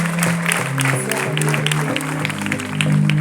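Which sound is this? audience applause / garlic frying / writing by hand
audience applause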